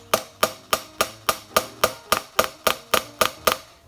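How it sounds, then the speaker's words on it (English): A small peening hammer strikes the end cap of an 1866/1873 lever action rifle in a steady series of about twelve sharp metallic taps, evenly spaced and close, with no voices. "I'll take a small peening hammer that I have here, and I'll just, like so."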